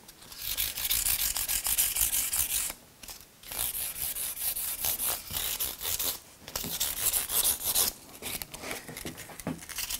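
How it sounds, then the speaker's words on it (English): Fret ends on an electric guitar neck being polished with sustained rubbing strokes that come in long bursts with brief pauses, close and alone, without any talk. "following the rounds that we've created, and polishing the fret ends up as well"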